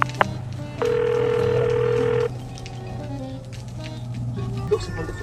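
A phone call being placed, with a single steady ringback tone of about one and a half seconds sounding over a low background hum and faint murmuring.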